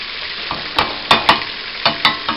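Butter and flour roux stirred in a pan of bubbling butter: a steady frying hiss broken by about half a dozen sharp, close scraping strokes of the utensil.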